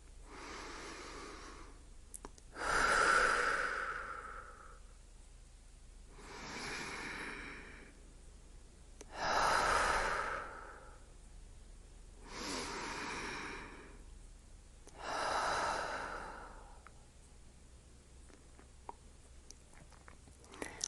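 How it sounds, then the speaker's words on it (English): Slow, deep breaths taken during a guided meditation for releasing tension, several long inhales and exhales spaced a few seconds apart, soft and close with no talking. "take 3 deep breaths to let out any tension from the day."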